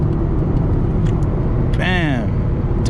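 2004 Nissan Sentra SE-R accelerating in traffic with the air conditioning running, a loud steady engine drone heard from inside the cabin, with a rising whine near the end and someone talking over it.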